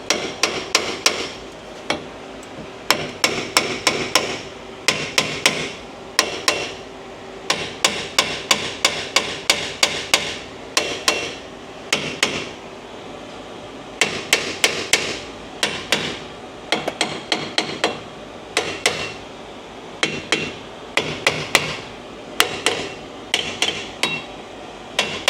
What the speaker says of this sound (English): kind of just tap it in